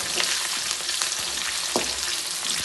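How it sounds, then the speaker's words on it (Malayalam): Green chillies and chopped ginger frying in hot oil with mustard seeds for a garlic pickle, a steady close sizzle with occasional stirring scrapes and pops, no voices. "ഒരു അഞ്ചെട്ട് പച്ചമുളക് ഒരു കഷ്ണം ഇഞ്ചി ചെറുതായി മുറിച്ചു നന്നായി എന്നൊരു വാടും"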